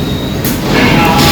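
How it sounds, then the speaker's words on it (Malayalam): A purple line metro train pulls into a Bangalore station with a loud, rumbling roar and a rising hiss, close and building over the short span. "നമുക്ക് പോകേണ്ട മെട്രോ വന്നു പർപ്പിൾ"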